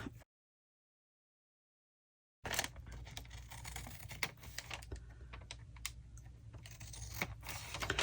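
Paper trimmed for an upcycled window envelope pocket, with rapid close small snips and crisp paper rustles that follow a brief silence and continue steadily.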